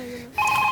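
A phone's ringtone on a comedy show stage starts abruptly after a short lull, sounding loud and steady with bright repeating tones.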